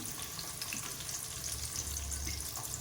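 Shallots sautéing in a mix of coconut oil and ghee for a Kayalpattinam-style wedding kalarikari, a steady close sizzle and crackle with faint stirring, no voices.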